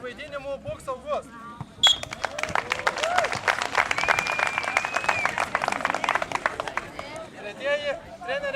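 A whistle blast sets off lively clapping and cheers from the crowd at the Perkūnas Daugai 2011 summer camp, honouring a children's team for several seconds before voices take over again.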